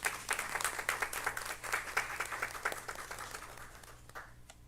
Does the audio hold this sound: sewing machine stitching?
no